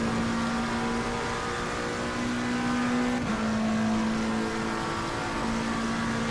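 A racing car engine drones steadily during a lap, a loud, sustained buzzing note with small pitch shifts and a brief dip midway as the revs change, with no talking.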